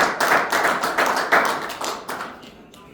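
An audience claps for a few seconds at a workshop lecture, a steady patter of many hands that slowly thins out, fairly loud and close.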